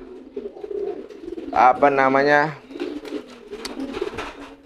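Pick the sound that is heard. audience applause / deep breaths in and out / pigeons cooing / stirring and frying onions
pigeons cooing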